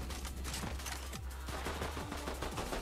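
Rapid gunfire in the video game Fortnite, a dense run of sharp repeated shots over a low rumble, steady and loud throughout with no talk.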